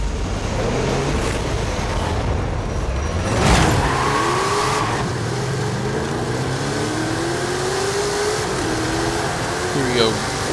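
A Ford F-450 rally raid truck on off-road tires in Forza Horizon 5 revs and accelerates, its engine note rising and sweeping in pitch through steady road and wind noise, with a brief louder surge midway and speech heard alongside.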